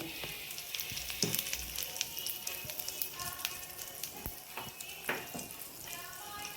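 Mustard seeds, cumin and asafoetida sizzle and pop in hot oil in a pan, a faint crackle with scattered small spits, quiet and close.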